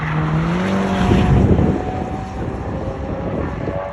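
Fast cars roar past on the Nürburgring Nordschleife, a loud engine note swelling to a peak and then fading as the car pulls away, leaving a broad rumble of traffic noise.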